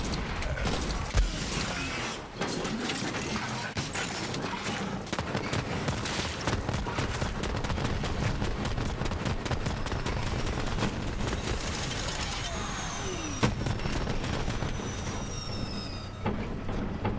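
Gunfire in the video game Borderlands 3 rattles in dense, rapid bursts through the stretch, loud and continuous with mechanical clanks and occasional whooshes.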